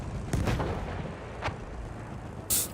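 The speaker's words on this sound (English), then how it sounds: "The enemies are being halted by our artillery barrage." Artillery booms thud in the distance during a Battlefield 1 match, with three separate rumbling impacts over a dense, continuous battlefield din.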